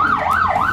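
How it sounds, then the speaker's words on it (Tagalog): An ambulance siren wails loudly and close, its pitch sweeping up and down in a smooth repeating cycle. "Meron pang dumaang ambulansya."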